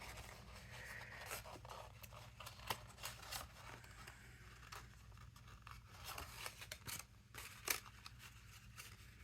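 Scissors snip through paper in quick, uneven bursts, soft and close, with light rustling between cuts and no voices.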